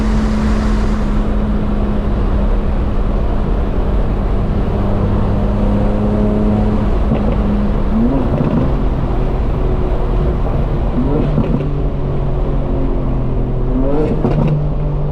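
A 900hp 2025 BMW M4 Competition xDrive at open throttle, its engine roaring loud and sustained from inside the car, the pitch climbing through gear changes without pause.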